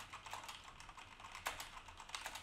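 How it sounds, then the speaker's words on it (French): Quick, irregular keystrokes on a Corsair K70 mechanical keyboard with MX Red switches, soft and fairly faint, with one sharper clack partway through. No voices are heard. "le petit test de réduction de bruit avec le clavier mécanique Corsair K70 équipé de switch MX Red"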